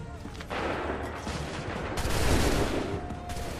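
Musket volleys in the video game Assassin's Creed III crack out amid a dense, rumbling battle din, with sustained overlapping gunfire bursts, loud and continuous, while shouted commands ring over the fighting.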